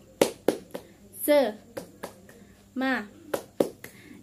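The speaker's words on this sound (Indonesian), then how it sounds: "Ibu ada tepuk semangat nih buat kalian" Rhythmic classroom 'tepuk semangat' spirit clap pattern led by a teacher at an Indonesian primary school: a sequence of sharp claps with two short vocal chants between them, close and clear.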